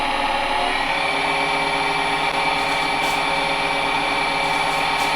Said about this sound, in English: So turn the lathe on slowly,